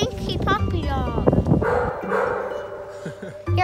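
A wet puppy dog by a river on a fishing outing gives short barks and whimpering yips close by, mixed with people talking over the sounds.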